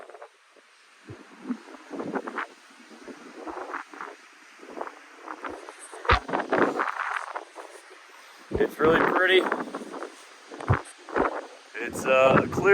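Wind gusts across an exposed rock viewpoint on the Appalachian Trail in the Smokies on a clear, cold day, a steady breathy rush with stronger blasts against the microphone while people talk throughout.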